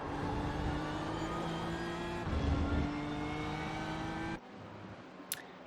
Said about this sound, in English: A lovely sounding engine in that number 7 BMW car